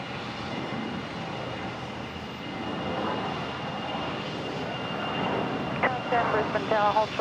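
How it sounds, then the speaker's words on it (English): A Fokker 70 jet airliner on a Virgin flight at Brisbane airport gives a steady, distant engine roar throughout, with faint beeps near the end. "The Fokker 70 here, operating Virgin 1023 off to Alice Springs."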